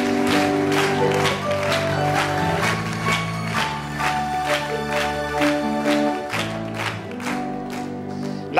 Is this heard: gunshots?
no